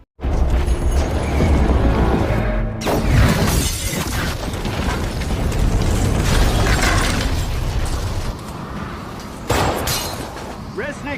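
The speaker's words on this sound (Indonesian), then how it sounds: "dilemparnya pula bom sama Resnick ke dalam. Ya meledak lah." A bomb explodes inside a shop in The Equalizer 2, a loud shattering blast with breaking debris and a sustained roar, under a narrator's voice continuing throughout.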